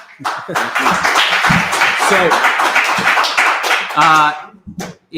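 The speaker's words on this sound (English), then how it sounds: "Round of applause for Vivek." A live podcast audience gives a round of applause, with steady, dense clapping under cheering and talking voices. A brief louder vocal burst rises near the end before the clapping trails off.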